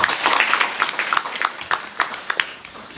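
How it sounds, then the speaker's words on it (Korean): An audience claps to welcome a speaker at a marketing lecture, a moderate round of applause that breaks into scattered individual claps as it fades. "그러면 큰 박수로 환영해 주시면 감사하겠습니다"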